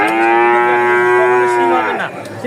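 Loud, sustained moo from a Munshiganj-type heifer at a rain-hit livestock market, one long lowing call holding steady for about two seconds before tapering off close by.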